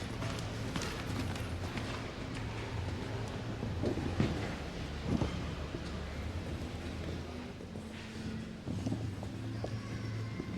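Hooves of a show-jumping horse clip-clop at an indoor competition arena, a steady run of footfalls mixed with crowd and hall ambience at moderate level.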